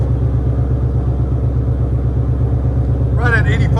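A Ford Mustang GT 5.0L V8 with H-pipe and Flowmaster Outlaw exhaust idles with a deep, steady, loping burble up close, loud and even throughout, with a voice speaking briefly near the end.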